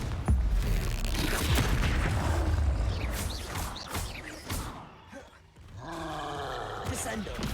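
Confringo blasting spell in a Harry Potter video game, a booming roar and crash burst that swells and rumbles, followed by softer game whooshes and effects, with a voice calling out spell names over it.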